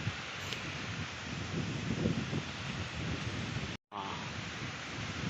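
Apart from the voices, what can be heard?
strong storm wind with rain and thunder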